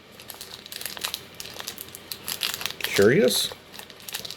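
Close crinkling and rustling of a snack wrapper being worked open, a busy scatter of crackles with someone speaking briefly and a short whoop-like vocal sound.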